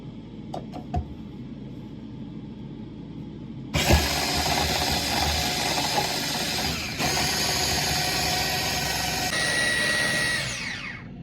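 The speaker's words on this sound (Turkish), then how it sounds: "çırpma aletimle iyice kıvam alıncaya kadar 1-2 dakika kadar çırpıp karıştırıyorum" An electric hand mixer whisks cold milk with whipped cream powder, starting after a few faint knocks and running loud and steady for several seconds with slight shifts in pitch before winding down.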